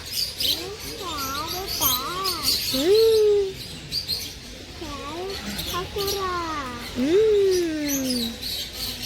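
Busy high chirps and whistled calls from rosy-faced lovebirds at Mysore Zoo, steady and close, with a few rising and falling squeaks standing out above the flock chatter.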